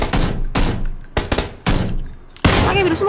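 Loud bursts of rapid gunfire from the PUBG battle royale game arrive in several separate volleys with short gaps between them, close and harsh.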